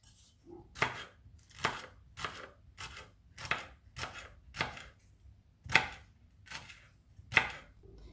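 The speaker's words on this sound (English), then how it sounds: "then we've got the celery that's going to be sliced next" Celery sliced with a knife on a chopping board for a beef and pearl barley stew, about a dozen crisp, evenly spaced cuts close by, each a sharp thunk, with quiet gaps between.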